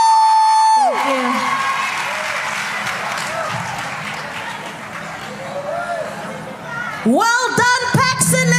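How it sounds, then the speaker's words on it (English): Steady crowd applause fills the space, with occasional voices and whoops over it, bracketed by loud sustained tones at the start and end. "Let's give her another round of applause."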